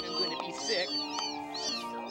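A cat meows repeatedly in the Amanda the Adventurer 2 video game, its short mews set against a dense, layered game soundscape at moderate level.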